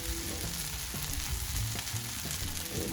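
Hash browns fry on a Blackstone flat-top griddle, crisping up with a continuous close sizzle and light crackle, and no one speaks.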